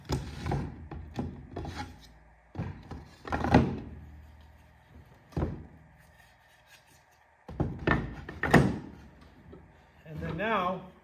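Wooden hive frame boards knock, scrape and rattle as they are dumped and pulled out, in several separate bursts of clatter and sliding friction close by, with quieter pauses between.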